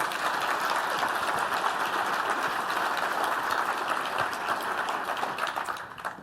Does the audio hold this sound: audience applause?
yes